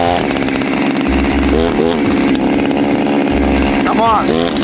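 A chainsaw cutting a hole in ice roars loudly and continuously, revving up and down in bursts, with a voice talking over the engine noise.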